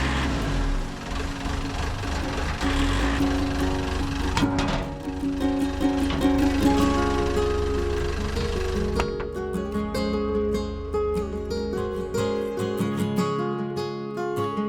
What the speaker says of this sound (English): Then I run the engine with the cover board off to check for leaks